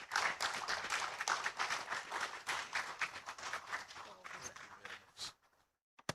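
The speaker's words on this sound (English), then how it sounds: "The applause can still keep coming as he makes his way" Audience applause at an academic conference in Ghana, a dense burst of clapping that fades out toward the end.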